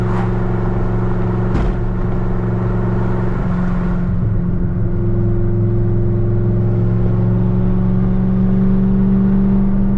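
A Camaro ZL1's engine drones loudly from inside the car while racing an SRT Trackhawk, a steady, dense, low hum with layered tones that swells slightly in pitch, after a couple of sharp knocks early on.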